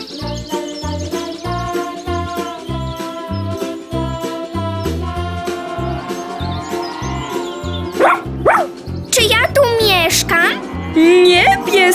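A dog barks several times in close, sharp bursts near the end, over bright, steady children's music with a plucked rhythmic backing.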